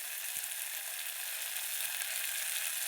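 Spices tempering in hot oil for dal, a close, steady hissing sizzle that holds evenly throughout, with one brief knock near the start and no talking.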